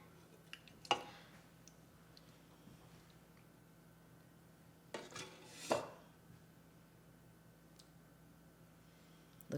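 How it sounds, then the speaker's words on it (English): Homemade yogurt being ladled into a flour-sack strainer over a bowl, with a few soft clinks and scrapes of a ladle against a pot, scattered and quiet against a low hum. "All right, so I'm just gonna ladle this in."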